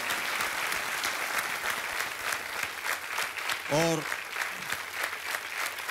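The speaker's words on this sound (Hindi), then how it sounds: "तालियों के साथ आपका अभिनंदन" Steady applause from the studio audience of the TV quiz show Kaun Banega Crorepati fills the whole stretch, dense and continuous, with a brief voice rising over the clapping partway through.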